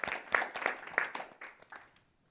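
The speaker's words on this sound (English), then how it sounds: "So let's give her a round of applause for her." An audience at a women's empowerment event claps in brief, sparse applause that fades out within about two seconds, sounding thin and fairly quiet.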